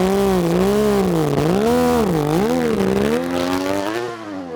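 A Mazda RX-7 race car with a rotary engine revs hard at Pikes Peak, its buzzing, wavering engine note rising and falling through repeated throttle changes, loud and near before fading at the end.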